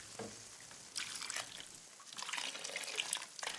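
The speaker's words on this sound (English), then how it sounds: "And now some vegetable broth." Vegetable broth pours into a cooking pot in two bursts of splashing liquid, a short trickle, then a longer steady flowing pour that fades out near the end, fairly faint and close, with no talking.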